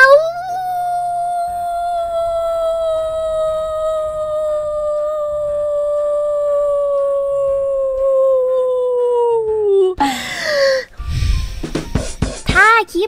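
A person imitates a long wolf howl: one sustained, slowly falling wail held for about ten seconds, close and loud, followed by a burst of breathy, scuffling noises.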